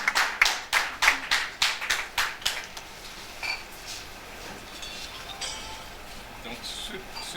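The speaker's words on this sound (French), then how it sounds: "mesdames et messieurs, ça s'applaudit." An audience at a Lions Club ceremony in Abomey claps in a rhythmic series of sharp, fairly close hand claps over about three seconds. The clapping then fades into a murmuring room with scattered light noises.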